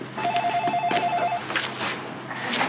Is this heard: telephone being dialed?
yes